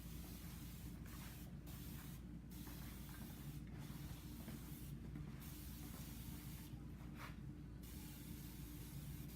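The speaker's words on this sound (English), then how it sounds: "I'm just gonna spray it down a bit" A spray bottle gives several short hissing bursts at an uneven pace, wetting hair during a haircut, heard close over a steady low hum.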